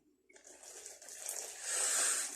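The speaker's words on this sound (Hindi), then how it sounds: "हुण पावांगे जी पानी।" Water from a tap poured into flour and salt while kneading dough by hand in a home kitchen, a steady splashing pour that begins after a brief pause and grows louder toward the end.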